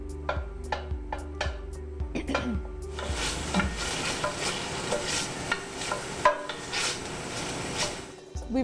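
Diced pancetta fries in a hot pot to render its fat, a few sharp scraping stirs at first giving way to a steady, close sizzle with occasional utensil scrapes.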